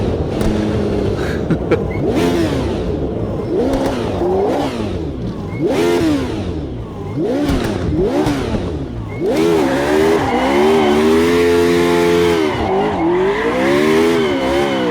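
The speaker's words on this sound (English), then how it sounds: "Celebratory donut for coming last." A retro Formula 1 car in the Automobilista 2 racing game spins a celebratory donut, its engine revving and surging in repeated rising and falling sweeps, loud and close with tyre squeal building toward a sustained high-revving howl.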